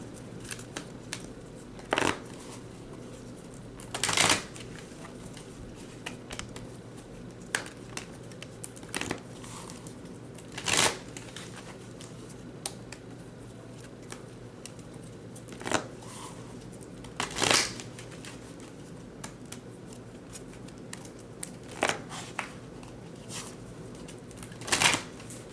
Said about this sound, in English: if you guys hear paper rattling, it's because I have my fan on and it's kind of blowing things